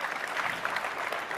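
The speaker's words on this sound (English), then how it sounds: "you guys can clap for that answer" Conference audience at CPAC claps for an interview answer, a steady, moderately loud patter of many hands filling the hall.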